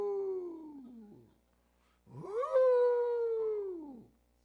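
A voice imitates a tiger's howl: two drawn-out, wavering howls, the second louder and longer with a rising start, close and alone against silence.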